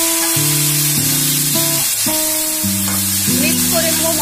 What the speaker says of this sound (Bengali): মশলার সাথে ভালো করে এটা কষবো